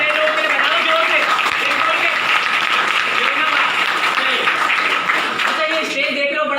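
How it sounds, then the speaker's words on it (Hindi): Sustained applause from an audience at a network marketing gathering, many hands clapping steadily and loudly for the newcomers, while someone talks over it. "जो पहली बार आया उसके लिए भी ताली बज रही है"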